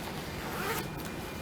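A metal zipper on a freshly sewn garment waistband is pulled in one quick rasping run, close and brief, over a steady soft background hiss.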